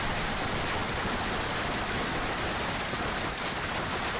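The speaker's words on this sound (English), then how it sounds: "I don't know how fast hail balls fall, but... It's literally knocking down the trees." Hail pours down hard enough to knock down trees, making a dense, unbroken roar of pelting ice that stays loud and steady throughout with no voices.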